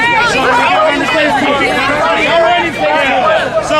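Dense, close crowd babble fills the air outside Trump's rally in Tulsa, with many overlapping voices jostling and talking at once in a steady, loud hubbub.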